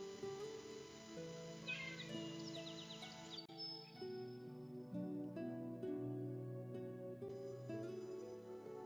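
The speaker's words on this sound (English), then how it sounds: "my kitty cat Smokey talking to me" A cat meows a few times amid a dense, tonal backdrop of ringing wind chimes, wind blowing and steady outdoor ambience.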